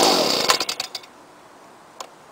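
A 1993 Lawnboy 10201 Silver Series petrol lawn mower engine briefly catches with a loud sputtering burst nearby, fades into a few irregular pops and then goes mostly quiet.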